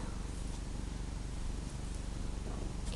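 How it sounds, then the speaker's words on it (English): A pet cat purrs steadily and close up, a continuous soft rumbling throb in a quiet room, with no talking over it. "purrs or little meows and stuff, it's because we have the kitty with us."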